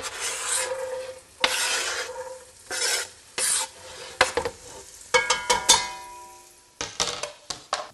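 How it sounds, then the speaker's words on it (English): Onions, carrots and celery sweat in oil and butter in a pan for a bolognese, with a soft sizzle under repeated scraping strokes of a spoon and a few clinks against the pot. "So we've just about sweated these onions and carrots, celery all out."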